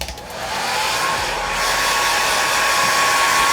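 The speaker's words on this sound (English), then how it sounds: "use a blow dryer on high heat." A blow dryer runs on high heat in a tanning setting, a steady loud broadband whoosh that holds constant throughout, with no voices.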